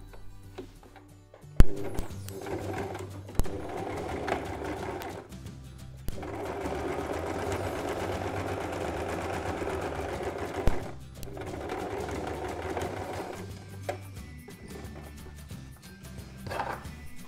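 A sewing machine stitches a baby travel changing mat in several long runs of rapid, whirring needle chatter, broken by short pauses and clicks as the fabric is repositioned, close and clear.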